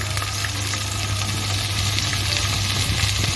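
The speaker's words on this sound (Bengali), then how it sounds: "এখন আমি আগের থেকে কেটে রাখা আলুটা দিয়ে দিচ্ছি আলুটা কিন্তু আমি সিদ্ধ করে নিইনি" Raw cut potatoes sizzle and fry in hot tempered oil in a pan, a steady bright crackling hiss with a low hum underneath, continuous and close.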